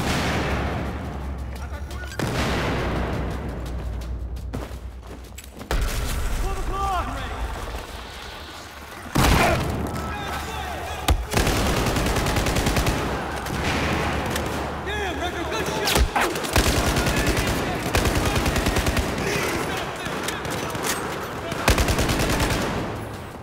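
Gunfire in a Battlefield 4 campaign firefight, with dense bursts of machine-gun and rifle shots and heavy booms striking repeatedly, close and loud, while voices talk over the shooting.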